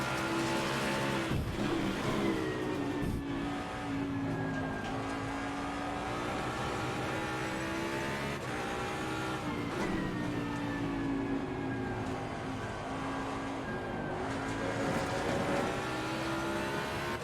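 A race car in Assetto Corsa Competizione pushing through a hot lap, with the engine revving loud and continuously, rising and falling through gear changes, and brief tire squeals mixed in.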